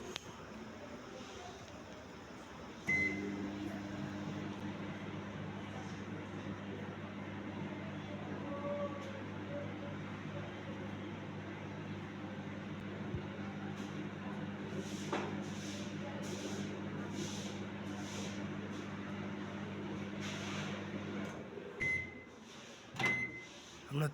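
Galanz microwave oven fitted with a replacement LG heater, running after repair: a steady low electric hum for about eighteen seconds that then cuts off, followed by a few short clicks and beeps.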